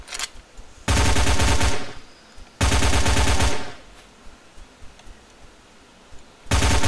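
Loud automatic gunfire from the video game The Zone comes in three sustained bursts, each about a second long, separated by quieter gaps.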